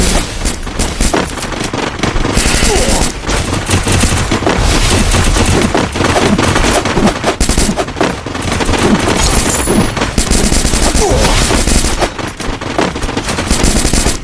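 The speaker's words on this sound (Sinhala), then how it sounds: "වෙඩි තියා ගන්න එපා බං" Continuous loud gunfire, dense rapid bursts of machine-gun shots rattling close by with little pause for the full length, no talk heard.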